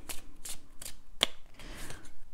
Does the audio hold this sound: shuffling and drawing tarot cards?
yes